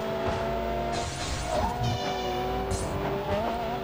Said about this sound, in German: Überzeugend gut ist auch der wunderschöne Sound der Motoren und Power-Ups